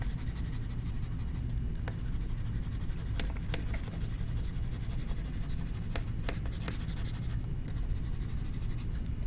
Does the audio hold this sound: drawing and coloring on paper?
yes